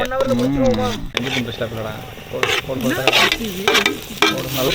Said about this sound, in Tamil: ஸோ ஃபஸ்ட் கிரேவிக்கு இது வந்து பொண்ணு முழுவதாக வெங்காயத்தை வதக்குறாங்க.